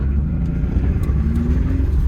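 A Holden VT monster truck engine runs at its first start-up with a deep, steady, loud rumble close by, and no voices over it.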